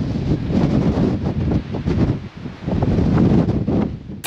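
High wind buffets the microphone at Hartland Point on the Devon coast in a loud, continuous roar, with gusty surges and a brief lull partway through.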